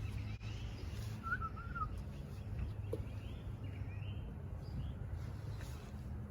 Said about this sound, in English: You can hear the blue jays over there.